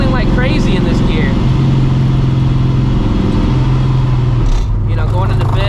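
A supercharged Procharger-equipped New Edge Ford Mustang GT cruising in fourth gear gives a steady, loud low engine drone with a sustained hum that holds almost unchanged throughout, while a voice talks over it at the start and end.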